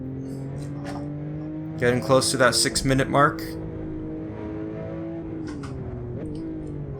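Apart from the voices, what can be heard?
Porsche 911 Turbo S engine accelerating, in a racing video game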